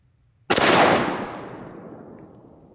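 A single loud shot from a 5.56 AR-15 rifle fired outdoors at a block of concrete: a sharp crack after brief quiet, followed by a long, fading echo.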